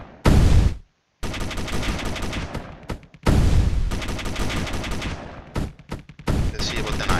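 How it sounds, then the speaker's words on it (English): Sustained automatic gunfire from an enemy frigate in the Space Engineers game, loud heavy bursts of rapid shots broken by brief gaps, with a few short pauses between volleys. "But the cockpit's still active, so she keeps shooting at us."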